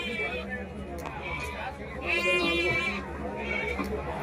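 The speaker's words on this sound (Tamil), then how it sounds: "எல்லாம் கெடா ஆடு, பியூர் ஒங்கோல் ஜுடிபி ஆடு." Ongole Judipi goats bleat at the Gudur livestock market, several wavering cries rising over one another amid a crowd of people chattering and bargaining nearby.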